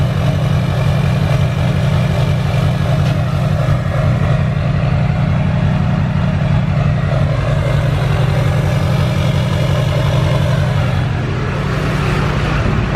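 A car engine idles steadily with its exhaust torn off, producing a loud, raw, throaty rumble with a constant pulsing beat that continues unbroken throughout.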